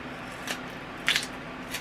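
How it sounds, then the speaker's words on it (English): Kitchen scissors snip through a raw chicken wing joint in three crisp, close cuts, the middle one loudest, in a quiet kitchen. "Put the scissors right in there and cut."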